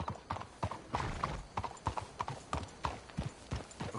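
Horses in Red Dead Redemption 2 plod along with a steady clip-clop of hooves, close and even, with a faint whinny mixed in and no speech.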